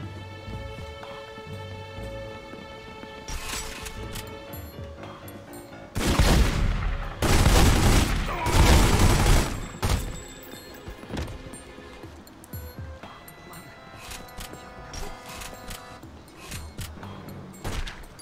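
Gunfire in The Godfather video game: scattered single shots, then loud dense bursts of rapid automatic fire in the middle, easing back to sporadic shots over a game music bed.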